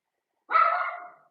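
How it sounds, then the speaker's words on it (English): A single drawn-out dog bark, close and fairly loud, lasting under a second and trailing off, with no talking. "now my dog is barking"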